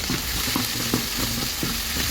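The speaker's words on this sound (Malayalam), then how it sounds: "കറിവേപ്പിലയും കൂടെ ഇട്ട് കൊടുത്തിട്ട് നമുക്ക് ഇളക്കാം." Curry leaves crackle and spit in hot oil while being stirred, a close, dense sizzle broken by quick scraping strokes of a spoon against the pan, with no talking.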